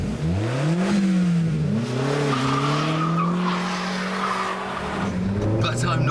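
A Ford RS driven hard on a racetrack, engine note rising and falling through gear changes while tyres squeal in long sustained howls, loud and close throughout.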